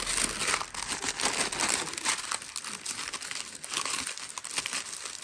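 Crinkly paper packaging of a purchase being unwrapped by hand, continuous close rustling and crumpling with small tearing bursts, no talking.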